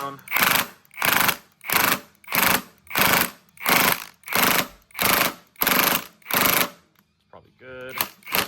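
Impact wrench on a Yamaha XSR900 motorcycle driving a 16 mm sprocket bolt in a series of about nine loud, evenly spaced rattling bursts, then a short softer whir at the end.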